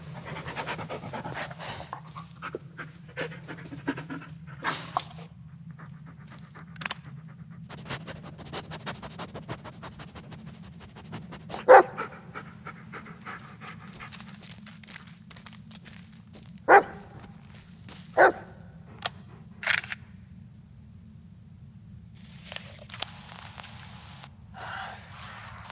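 A dog in the Blair Witch video game pants heavily and steadily up close, with several loud, sharp barks breaking in partway through and near the end.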